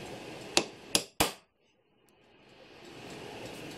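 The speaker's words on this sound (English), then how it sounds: "we'll bring the top down and give it a light tap with our hammer" Three crisp, light hammer taps on a bush in the movement of a Japanese 40-day wall clock during rebushing, close and evenly spaced, followed by a quiet pause and soft background hiss.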